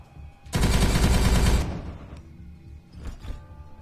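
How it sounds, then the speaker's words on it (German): Bolter fire in the Warhammer 40k Regicide video game erupts as a loud, dense burst of rapid gunfire lasting about a second, followed by fading mechanical clatter and a couple of fainter impacts. "Bolters firing, spearheading assault."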